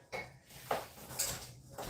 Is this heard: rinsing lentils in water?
no